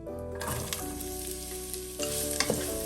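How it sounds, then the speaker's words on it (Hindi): Chopped onion sautéing in two tablespoons of hot oil, a steady close sizzle with stirring scrapes and clatters, no talk. "इसको हल्का सा सौते कर लेंगे"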